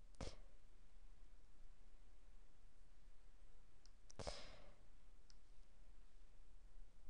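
Two sharp clicks of a computer mouse, about four seconds apart, with a fainter tick or two between them, close up over steady low background hiss.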